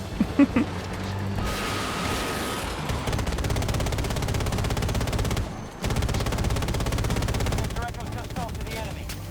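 Automatic weapon fire in the video game Battlefield 2042, long dense bursts of rapid shots that pause briefly and resume, loud and close, with a player talking over the gunfire.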